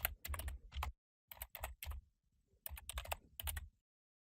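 Rapid bursts of keystrokes on a computer keyboard while a name is typed into Revit architectural software, in two clusters separated by a short pause, close and clear with no talking.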